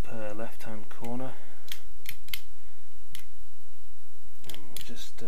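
A socket wrench ratchets with a string of sharp clicks while breaking loose a cylinder head bolt on a Honda VFR800 engine, with a voice speaking before and after.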